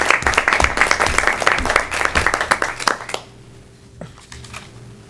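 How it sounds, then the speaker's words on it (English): A room of people at a school board of education meeting claps in loud applause that fades out after about three seconds, leaving quiet with a faint tap. "if we could give Nancy a round of applause"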